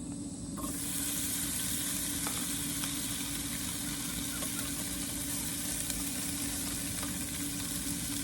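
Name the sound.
Spam frying in a pan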